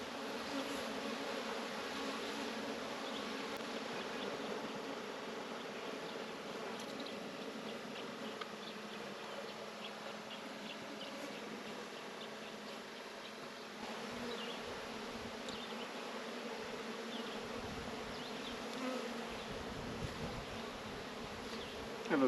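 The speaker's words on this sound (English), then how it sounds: "Lots of curious bees." Honey bees buzz around an opened hive during a nuc split, a dense, continuous hum close by with individual bees droning past.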